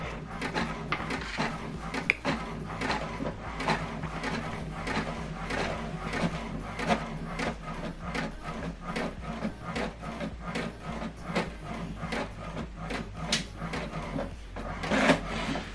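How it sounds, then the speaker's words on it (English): An HP printer feeds and prints a document sent from a mobile phone, giving a close, steady train of rapid mechanical clicks and whirring over a low motor hum, with a louder clunk near the end. "the second one is printing"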